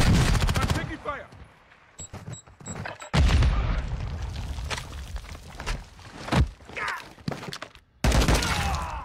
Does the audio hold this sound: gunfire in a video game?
yes